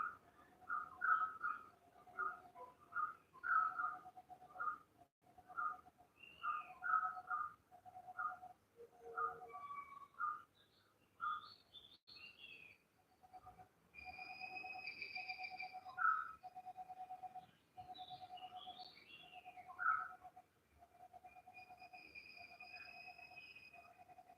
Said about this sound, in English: Listen to the birds here for a few breaths from the Jungle Shala.